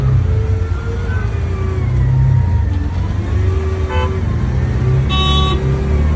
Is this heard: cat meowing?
no